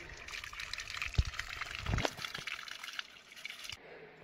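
Water from a broken tap splashes and trickles into a container outdoors, a steady liquid spatter with a couple of louder thuds before it cuts off.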